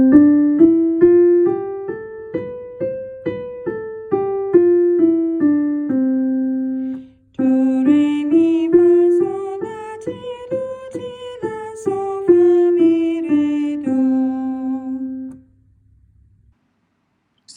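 An Ionian (major) scale played twice on a keyboard instrument, ascending then descending in even, separate notes, with a short pause between the two runs and a brief low tone at the end; clear and unaccompanied.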